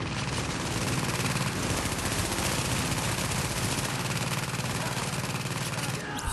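Dense, continuous gunfire and blast noise in The Division video game, a harsh unbroken wall of loud crackling sound with steady rapid pulsing throughout.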